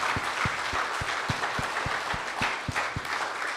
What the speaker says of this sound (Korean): 다시 한번 박수로 하나님께 영광 돌리겠습니다.